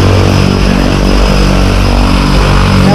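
Loud, steady drone of a propeller airplane engine at a skydiving operation, heard from close by at or inside the aircraft, constant and filling the whole stretch with no talk over it.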